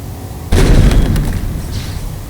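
A grenade explodes in Halo Infinite with an abrupt, heavy, close boom after a short quiet stretch, leaving a long rumbling, crackling decay that slowly trails off.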